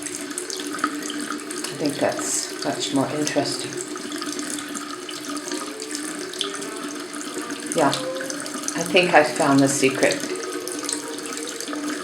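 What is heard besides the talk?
running water from a tap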